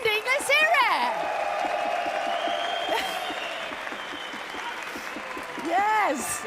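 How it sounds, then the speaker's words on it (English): An audience at the Toyota Gazoo Racing GT Cup 2023 Grand Final applauds the race winner with steady, dense clapping that lasts throughout, swelling near the start and again at the end. "give him a round of applause"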